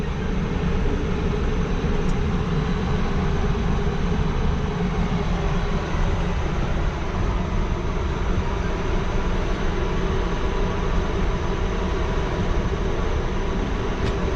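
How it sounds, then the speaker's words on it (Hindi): Pakistan Express 45 passes a railway station in Pakistan with a steady, loud rolling rumble of wheels and carriages that keeps going without a break. "क्रॉस हो रहा है पाकिस्तान एक्सप्रेस 45 आपका।"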